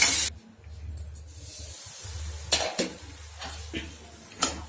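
Tamarind pulp being stirred into cooked radish for chutney, with close spoon scrapes and clinks against a pot, a few sharper knocks, over a steady low background hum.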